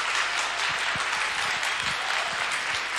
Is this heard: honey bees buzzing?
no